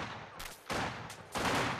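Bursts of gunfire in the World War II strategy game Company of Heroes 2: three dense rattling volleys of rifle and machine-gun fire in quick succession, loud and close, with no talking.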